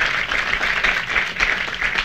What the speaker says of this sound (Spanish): en verdad un gran aplauso para ella,